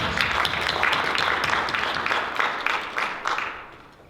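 Audience applause for students at a pitch competition, a dense, steady wash of clapping that holds for a few seconds and then fades away toward the end.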